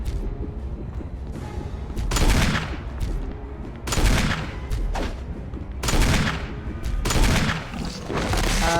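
Gunfire from the Resident Evil Remake HD video game: a series of loud, booming shots landing about every one to two seconds, each decaying into a lingering rumble under a steady background soundtrack.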